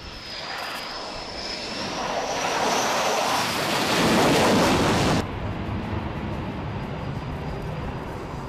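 Jet roar of a fighter aircraft flying over during the NATO Neptune Strike exercise over the Baltic, swelling steadily louder as it nears and then cutting off, with wind noise throughout.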